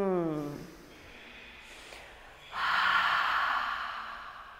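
During a power yoga session, a brief voiced sigh is followed by a soft inhale, then a long, louder airy exhale that swells and slowly fades, all close to the microphone.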